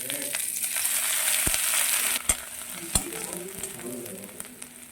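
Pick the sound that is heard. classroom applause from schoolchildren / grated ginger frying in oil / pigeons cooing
grated ginger frying in oil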